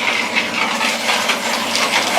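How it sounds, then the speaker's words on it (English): A glass tumbler runs with a steady, dense rattling churn like small hard pieces tumbling in a rotating drum, continuous and fairly loud with no voices. "Pardon the noise, the glass tumbler is running."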